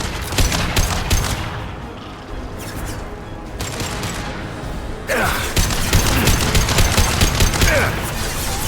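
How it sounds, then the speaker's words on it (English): Heavy weapon in Mass Effect 2 firing a high-impact shot, with loud, dense bursts of gunfire and booming blasts rattling through a sci-fi battle, broken by a brief lull before the barrage resumes. "Firing a high-impact shot!"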